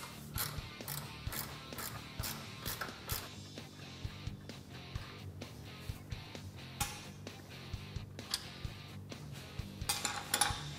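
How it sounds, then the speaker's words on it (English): A hand ratchet removes the 13mm motor mount nuts on a Polaris RZR XP 4 Turbo, giving bursts of close, rapid clicking with short pauses and occasional metal clinks. "remove both of our 13mm nuts"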